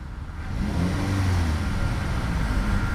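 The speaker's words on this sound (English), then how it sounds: "there is a slight little bit of delay between actually hitting the throttle pedal and the engine actually revving up" A 2013 Chevrolet Malibu Eco engine revs up steadily from a low rumble to a sustained, moderately loud drone, heard close with no voices.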